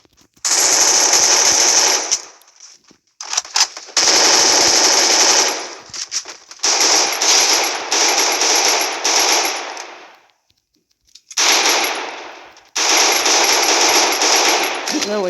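Sustained automatic assault rifle fire from the mobile battle royale game Free Fire, loud and close, coming in several long bursts broken by short silent gaps, with no talk over it.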